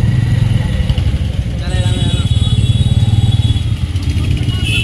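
A motorbike rides into a parking area at the Sonpur fair, its engine a close, loud, steady rumble with a brief shift in pitch partway through.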